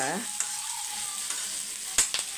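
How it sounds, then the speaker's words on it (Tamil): Onions sauté in a pan with a continuous close hiss and sizzle, marked by a few small crackles and snaps. A faint tone fades out at the very start, and no one speaks. "இப்போ வெங்காயம் நல்லா வதங்கட்டும்"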